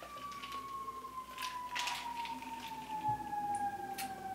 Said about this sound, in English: Oh, a little bit of a siren there in the background.